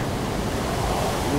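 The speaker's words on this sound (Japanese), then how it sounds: "ああ波がすげえ" Rough sea waves crashing along the coast below the Yui parking area of the Tomei Expressway in Japan, a loud, dense, continuous roar of surf and spray with no distinct breaks, heard alone.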